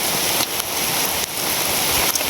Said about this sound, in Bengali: যেভাবে বৃষ্টি হইতেছে অবস্থা খুব খারাপ